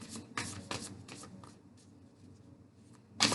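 Muse Tarot deck being shuffled in the hands, with several quick papery riffles and soft card slaps, close and quiet.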